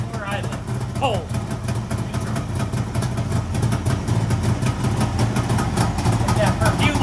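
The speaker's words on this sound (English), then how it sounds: "And we're idling. Cold." Cold two-stroke Kawasaki H2 motorcycle idling with a steady, rough, close-up engine drone, and people speaking over it.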